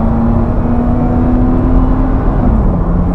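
A Mercedes-Benz 190 2.6 with the M103 engine, in excellent condition with 40,000 miles, pulls hard through its gears from inside the cabin, a loud droning engine hum that climbs steadily, then dips as it shifts.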